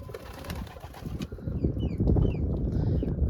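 Soft coos from young pigeons rise from a busy background of low rumbles and rustling, with a few faint higher bird chirps mixed in.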